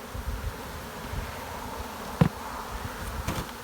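Honey bees drone steadily around an open hive with laying workers, a close continuous buzz broken by one sharp tap midway and a faint knock near the end.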